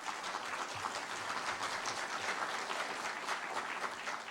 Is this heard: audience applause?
yes